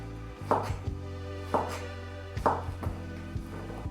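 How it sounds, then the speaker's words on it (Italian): A knife chops a leek and zucchini into small pieces on a cutting board, giving four evenly spaced, close, crisp thuds with faint shorter taps between them. "tagliamo un porro, 2 zucchine a pezzetti"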